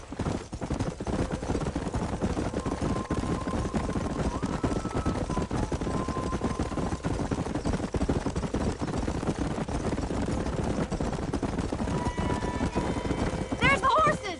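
Horse hooves clip-clop in the Western video game Red Dead Redemption, a steady rhythmic patter under continuous ambient game sound, with spoken dialogue over it and a brief tonal flourish near the end.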